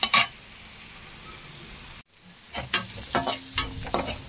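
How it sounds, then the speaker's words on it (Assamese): Chopped onion, ginger and green chilli fry in a pan, giving a sizzling hiss that stops abruptly. Then come several sharp, close scrapes and stirs of a spatula against the pan. "অকণমান কুটি থোৱা পিয়াজ, আদা আৰু সৰু সৰুকৈ জলকীয়া কুটি দি দিছোঁ। এইখিনি মই অকণমান ভাজি ল'ম।"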